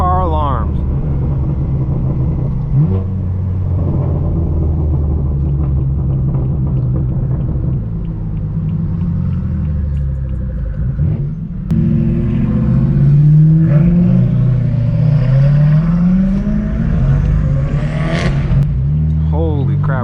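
Straight-piped BMW M4 F82 roars loudly while driving, a constant deep exhaust drone with revs rising and falling and a strong surge of acceleration, heard from inside the car as a person talks excitedly over it.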